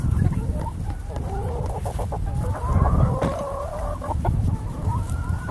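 New Hampshire Red hens in a backyard flock clucking and cackling in bursts over a steady low murmur of the birds, with a rooster-like crow rising midway; close and continuous.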